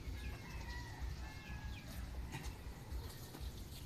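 Backyard farm chickens cluck and call with some crowing, a dense, steady flock sound close by over constant low outdoor rumble.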